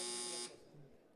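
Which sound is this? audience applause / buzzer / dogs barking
buzzer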